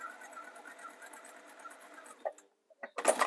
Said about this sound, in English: So we're going to sew along the folded edge, 1/4 inch seam allowance.